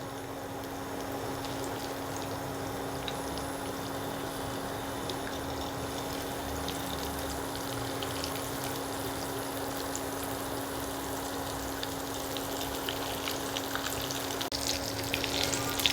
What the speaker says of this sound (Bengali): এবার চামচ দিয়ে তুলে একটা একটা করে পিস আমি তেলের মধ্যে ভেজে নেব।